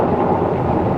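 A deep, continuous roll of thunder rumbles loudly throughout, with a faint hiss of rain beneath it.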